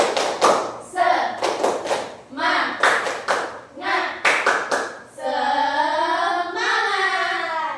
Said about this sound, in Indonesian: Ketika Ibu bilang tepuk semangat, kalian langsung mengikutinya ya.